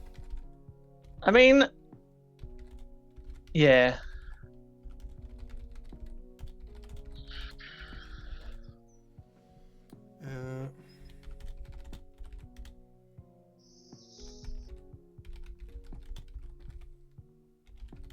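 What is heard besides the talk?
typing on a computer keyboard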